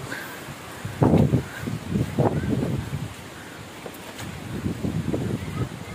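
Strong typhoon winds from Kristine thrash coconut palms, gusty rushing and buffeting in surges with leafy rustle, loud and close with microphone wind noise, no rain.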